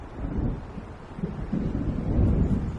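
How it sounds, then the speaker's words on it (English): Thunder from an approaching storm in the video game Alan Wake, a deep, rolling rumble with wind noise that swells and grows louder, heard alone. "It seems there's a storm coming."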